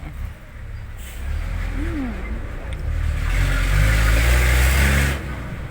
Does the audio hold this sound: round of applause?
no